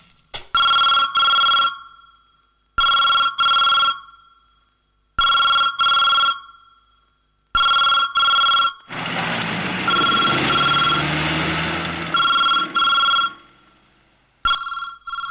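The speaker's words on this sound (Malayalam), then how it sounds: "ഫോൺ റിങ് ചെയ്യുന്നുണ്ടല്ലോ" A telephone bell rings loudly and close in repeated double bursts with silent gaps between them, partly overlapped midway by a noisy burst of other sound, with no talk.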